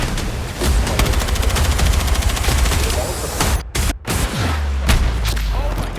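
Loud, close gunfire rattles almost without pause in a Battlefield 6 street fight against a tank, rapid automatic bursts joined by heavy booms and a low rumbling explosion near the end.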